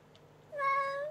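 A single drawn-out cat meow from a song rises clearly after a quiet moment, moderately loud and tonal, with no talking over it.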